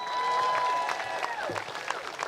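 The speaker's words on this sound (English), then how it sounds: "can we clap it up one more time for Pastor Dawn?" A crowd claps for Pastor Dawn at a live statue unveiling for Dawn Staley. The applause forms a steady, dense patter, with a voice or tone carrying over it.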